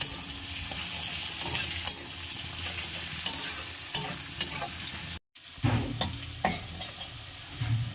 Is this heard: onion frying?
yes